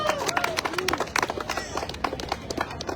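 Applause and cheering from an audience in city council chambers at a housing rights hearing, a busy spread of claps and crowd noise lasting throughout, fairly loud and close with some voices mixed in.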